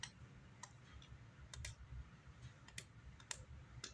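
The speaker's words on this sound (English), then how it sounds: "that's my thumbnail catching on the nib" A thumbnail catches on the fret nibs along the neck of a 1969 Gibson Les Paul Deluxe Goldtop under restoration, making sparse, faint, sharp clicks at irregular intervals over a low room hum.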